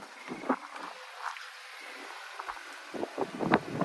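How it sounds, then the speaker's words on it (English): Gusty wind buffeting a microphone outdoors, with rumbling low bursts and rustling that rise and fall over a few seconds. "it's a pretty windy day today"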